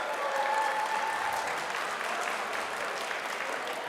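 An outdoor crowd at a giant vegetable weigh-off at Pumpkinfest applauds a first-time pumpkin grower, producing a continuous, even roar of clapping at moderate distance with a faint tone briefly audible early on.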